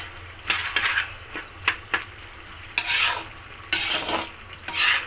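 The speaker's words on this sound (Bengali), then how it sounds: "টমেটো দিয়ে দিলাম, সঙ্গে কাঁচা লঙ্কা কুচি, সঙ্গে আদা কুচি।" Chopped tomato, green chili and ginger fry in a pan for vegetarian chowmein while a spatula scrapes and stirs in repeated strokes over a gentle sizzle.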